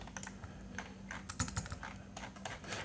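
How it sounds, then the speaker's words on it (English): Keys on a computer keyboard are pressed in quick, irregular clicks and taps, close and clear, with no talking. "So if I hit WASD, actually, I think WASD only works."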